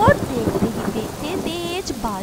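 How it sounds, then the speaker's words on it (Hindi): Heavy rain and rumbling thunder in a cartoon storm, a dense wash of rainfall beneath voice-like sounds that carry across the whole stretch. "ज़्यादा बारिश होने के कारण ज़मीन पर हर तरफ पानी ही पानी हो जाता है"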